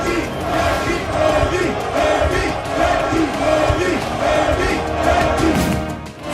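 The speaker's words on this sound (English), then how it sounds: "where they were welcomed by a mammoth crowd" A mammoth crowd roars and chants at a campaign rally in Kaduna, northern Nigeria, a dense, steady wall of shouting and cheering voices throughout.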